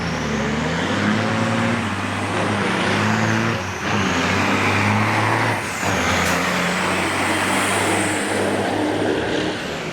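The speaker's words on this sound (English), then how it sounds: "What a powerful truck going up the hill." A Kenwood big rig race truck at Onaway Speedway's Great Lakes Big Rig Challenge climbs a hill, its engine a loud, steady, deep roar that holds for the whole stretch with a brief hiss partway through.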